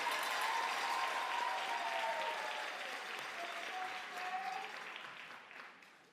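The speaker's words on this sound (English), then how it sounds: "How about one more round of applause for our 2024 Teachers of the Year?" A school district audience applauds its 2024 Teachers of the Year with dense, sustained clapping that gradually tapers off, moderately distant and with no talking.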